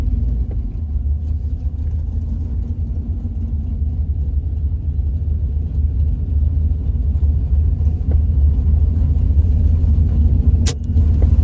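A turbocharged Dodge Dakota RT truck idles and rolls in the burnout box at a drag strip, giving a loud, steady low engine rumble up close, with a sharp click near the end.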